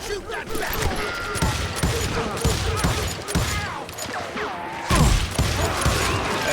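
Dense gunfire from a Wild West shootout in the video game Call of Juarez: Gunslinger, loud overlapping shots and ricochet whines under shouting voices throughout.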